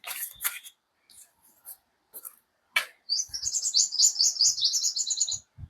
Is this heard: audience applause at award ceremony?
no